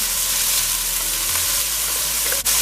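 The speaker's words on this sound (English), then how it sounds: "So I'm going to add the onion first. I'm going to saute that." Chopped onion sautéing in a pan for a pumpkin curry, a steady, loud, even sizzle that holds through the whole stretch with only a brief dip near the end.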